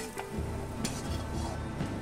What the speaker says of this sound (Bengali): এখন ওই 2 মিনিটের মতন উচ্ছেগুলো আমি এখানে ফ্রাই করে নেব।